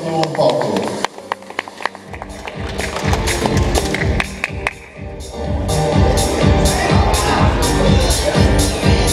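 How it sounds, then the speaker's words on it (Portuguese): A bodybuilding contest crowd claps for the third- and second-place finishers, loud, rhythmic applause building after a brief lull and holding steady to the end. "Salva de palmas para o terceiro e segundo colocado."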